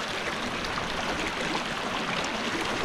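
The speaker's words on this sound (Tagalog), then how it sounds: "Lakas ng tubig, maulan kasi." Mountain river running strong and swollen after rain, a steady, dense rush of churning water close by with no break across the whole stretch.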